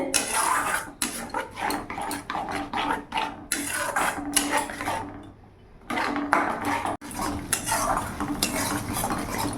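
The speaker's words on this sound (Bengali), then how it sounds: "কিছুক্ষণ ধরে আমি ভালো করে কষিয়ে নেব যতক্ষণ না মশলা থেকে তেল ছাড়ছে" Peas and spice paste are sautéed in a pan for a Bengali rui fish kalia, with rhythmic metal spatula scrapes and clanks over a low sizzle, close and busy with a short lull midway, and no one speaking.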